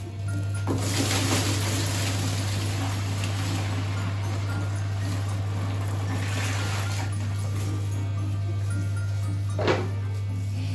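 Boiling hot water pours steadily into a cat litter tray already holding dish soap, giving a continuous rushing splash over a constant low electrical hum, with a brief knock near the end.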